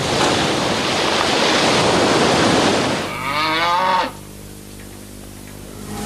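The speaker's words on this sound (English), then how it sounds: "All our cows are Friesians, and unfortunately they're very inquisitive." A Friesian cow moos once, a long wavering low, after several seconds of loud rushing surf and wind at a clifftop farm on the Holderness coast, which then drop away to a quieter hum.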